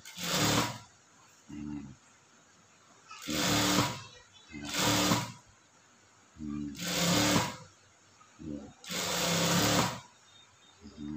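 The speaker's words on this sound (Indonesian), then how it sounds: "Saat jahit bagian ini jangan terlalu ditarik ya." Sewing machine stitching fabric for an open seam and pocket, heard in repeated short bursts of fast whirring with pauses between them, close up, while a voice speaks quietly.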